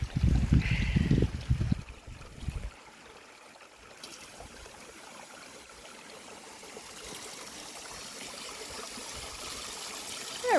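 Spring water runs steadily into a homestead pond to fill it, a continuous rushing trickle after some brief louder handling noise at the start.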